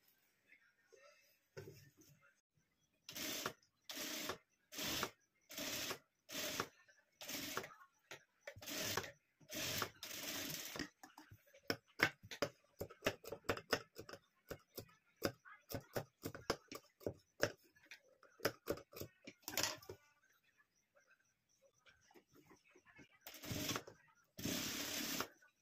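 Sewing machine stitching the neckline of a boat-neck blouse, running in short bursts of rapid mechanical clatter separated by brief pauses, then a long stretch of quicker, uneven stitching, fairly close and alone without talk.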